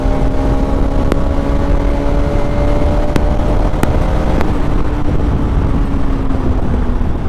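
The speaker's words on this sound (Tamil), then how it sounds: "ஓ மை காட், வண்டியோட சவுண்டு பயங்கரமாக இருக்குங்க." A Bajaj Pulsar RS 200 motorcycle engine and exhaust hold a loud, steady droning note up close, with the pitch easing slightly and a few sharp ticks over the continuous roar.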